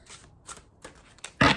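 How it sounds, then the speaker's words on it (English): Oracle cards shuffled by hand, heard as several short papery riffles spaced apart, ending in a louder, fuller burst of card friction; no talking. "I'm just going to shuffle it here in person this time and go from there."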